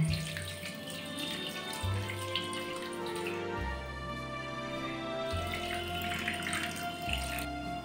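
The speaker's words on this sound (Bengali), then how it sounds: "এবার ছানাটাকে ভালো করে ধুয়ে নেব" Running tap water pours steadily while chhana cottage cheese curd is washed, a continuous splashing rush with shifting low gurgles.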